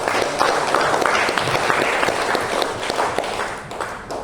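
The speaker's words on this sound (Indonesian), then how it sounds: "Tepuk tangan." Attendees at a Catholic lay counselors' working-group session applaud Pak Tony, a dense, even wash of clapping from a sizable room lasting a few seconds at steady loudness.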